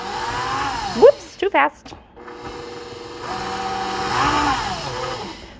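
A KitchenAid stand mixer whirs steadily as it beats banana bread batter in its bowl, a continuous close motor drone that rises briefly in speed, with a voice speaking over it partway through.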